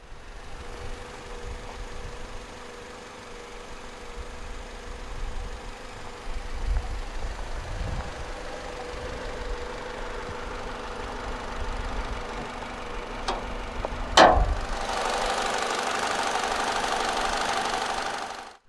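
A 2016 Toyota Verso's 1.8 litre Valvematic inline-4 petrol engine (naturally aspirated, dual overhead cams, 16 valves, electronic fuel injection) idles with a steady, even hum. Near the end comes a brief sharp clack, then a louder, brighter hiss.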